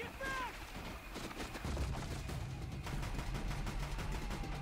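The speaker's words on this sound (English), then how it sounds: "That's not a flamethrower, it's a fucking Gatling gun, dude." Rapid bursts of Gatling-style machine gun fire in Horizon Zero Dawn rattle in quick repeated clusters across the clip, dense and sustained, with voices talking over the gunfire.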